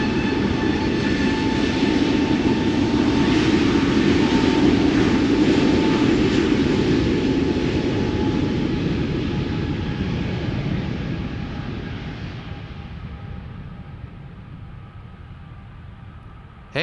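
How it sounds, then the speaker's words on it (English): EasyJet Airbus A320neo jet airliner bound for Belfast roars steadily at close range on the ground at Schiphol, a broad loud rumble with engine whine that slowly fades as it moves away. "Line cutter, going to Belfast, A320neo, EasyJet flight"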